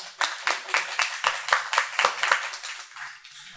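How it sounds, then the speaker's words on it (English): Applause from a small audience at a community workshop on the health insurance marketplace, a steady patter of close and mid-distance claps that swells and then thins out after a few seconds. "So let's have a round of applause for them."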